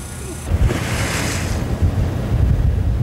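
Rough open sea at night with three to four metre waves and strong wind of about 14 metres per second, a dense continuous roar of surf and gusting wind buffeting the microphone aboard a mackerel fishing boat.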